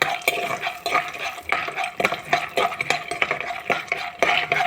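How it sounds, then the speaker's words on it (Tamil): Peanuts fry in hot oil in a kadai while being stirred, giving steady scraping and rattling strokes over a constant crackle, close and moderately loud. "வேர்க்கடலை நல்லா வறுத்துக்கோங்க."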